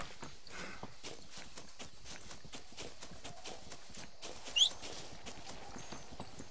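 Horse hooves clip-clopping at a brisk trot in Red Dead Redemption on PS3, a steady rhythmic run of hoofbeats, fairly close and moderate in level, with a brief sharp squeak partway through and no talk.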